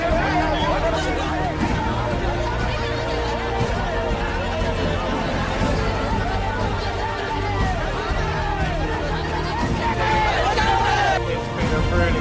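A crowd at a council meeting on water fluoridation, with a loud continuous babble of many overlapping voices, shouting and chatter filling the room throughout.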